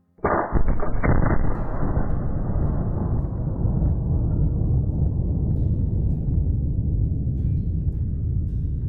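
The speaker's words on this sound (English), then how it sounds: "We took the shot." A muzzleloader rifle fires a single loud shot at a whitetail buck outdoors, a sharp blast followed by a long rolling rumble that fades slowly over several seconds, with no voices.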